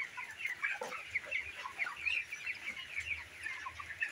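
Chickens cluck steadily at a small backyard mini farm, overlapping calls close by and moderately loud, with no talking.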